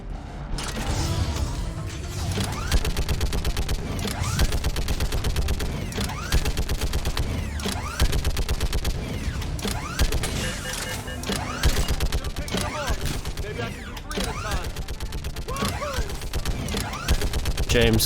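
Gunfire rattles through a battle in Mass Effect Legendary Edition on PS5, rapid continuous weapon bursts and mechanical clatter filling the scene, with game-character voices speaking over the shooting.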